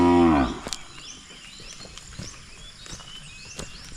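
A cow moos loudly and close at the start, a short low call, followed by quieter farmyard ambience with faint rustling and insects.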